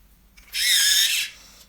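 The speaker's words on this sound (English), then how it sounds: "I used an electrical pencil sharpener to save the time." An electric pencil sharpener grinds a colour pencil in one steady whirring burst of under a second, close and fairly loud, with quiet before and after.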